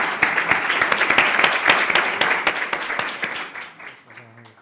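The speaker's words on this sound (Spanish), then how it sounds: "Despedimos este panel con un fuerte aplauso." Audience clapping to close a panel at a mobility platform presentation, a strong burst of dense applause that fades out, with a voice starting as it ends.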